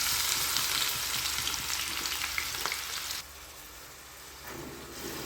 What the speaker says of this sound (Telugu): ఇప్పుడు కట్ చేసి పెట్టుకున్న ఉల్లిపాయలు, పచ్చిమిరపకాయలు అయితే వేసేస్తున్నాను.